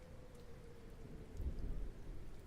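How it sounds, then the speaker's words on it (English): Steady rain falls with a soft low rumble of distant thunder building partway through, a quiet continuous storm ambience with no voices. "Do you think the rain sound is too loud?"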